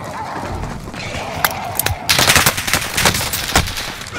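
Rapid bursts of automatic gunfire in a battle-royale video game, loud and close, with clusters of sharp shots becoming denser toward the end over a steady game background.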